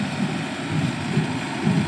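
A model 892 tractor driving a 540 PTO shaft to run a Sipma baler while baling alfalfa, its engine a low, heavy drone that labors steadily under load with slight pulsing unevenness, close and continuous.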